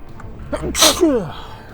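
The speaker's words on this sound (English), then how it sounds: "Oh no, I'm gonna sneeze." A single loud, close sneeze with a short breathy wind-up and a sharp burst, fading into a brief voiced trail.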